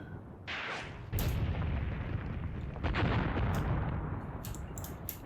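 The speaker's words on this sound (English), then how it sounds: "Got artillery landing up here where I don't want it." Artillery shells landing in the Graviteam Tactics video game: several heavy, rumbling impacts in succession, moderately distant, with sharp bursts among the explosions and no voices.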